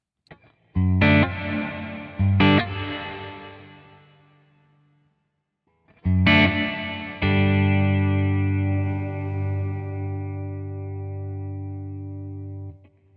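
Distorted electric guitar chords played through a Boss RV-200 reverb pedal with pre-delay at maximum, loud struck chords ringing out with a delayed wash of reverb tail that fades away before the next strums.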